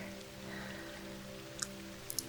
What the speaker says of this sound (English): The weather outside is very stormy and rainy and windy.